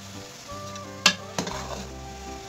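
Boiled rice being mixed in a pan for spicy Mexican rice, with a low sizzle under two sharp metallic clinks of a spoon against the pan, then soft stirring.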